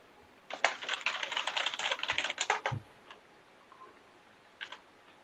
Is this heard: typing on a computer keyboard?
yes